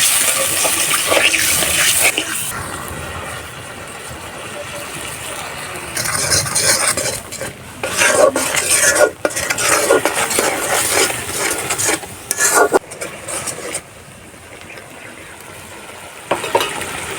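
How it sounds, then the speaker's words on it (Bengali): Masala paste sautéing in a pan for fish with telakucha greens, a loud continuous sizzle broken by frequent scraping stirs and clinks of a spatula, swelling and easing as the paste is worked. "দেখুন মশলাটি ভালো করে কষিয়ে নেব"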